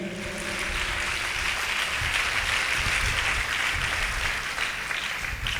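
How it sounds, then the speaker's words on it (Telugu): An audience at a church gathering applauds in a dense, even wash of clapping that holds steady for several seconds. "చప్పట్లు కొట్టండి సంతోషంగా"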